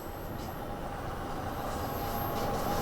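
A simulated train in Train Sim World 2 climbs uphill under added power, giving a steady low rumble with a faint constant whine, quiet and even throughout.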